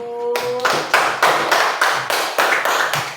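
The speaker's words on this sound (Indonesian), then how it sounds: "kasih tepuk tangan untuk kelompok 1" A classroom group applauds after a class presentation, with steady rhythmic clapping of many hands in regular close bursts running to the end.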